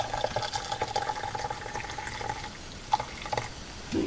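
Mixed liquid is poured into a glass jar up to the neck, a faint steady trickle and splash with a few small clinks near the end.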